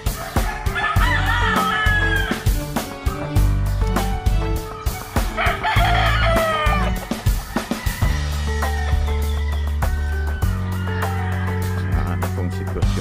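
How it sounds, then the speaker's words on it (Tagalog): Fighting roosters crow repeatedly, overlapping one another over a steady farmyard background of clucking and low rumble. "Manok panabong."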